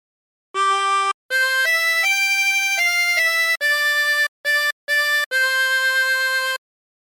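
A harmonica plays a phrase of Waltzing Matilda with bent notes: a run of clear, close, separate notes, some short and some held, with brief gaps between them and no talking.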